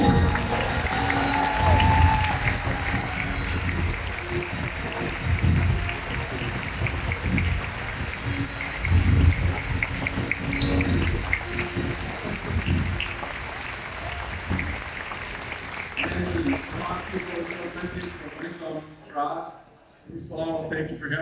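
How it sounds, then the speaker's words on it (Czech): A large convention crowd at Comic-Con Prague applauds a Mandalorian guest, a long, full roar of clapping with shouts and cheers that tapers off near the end. "Pro to velký potlesk, Brandon Way!"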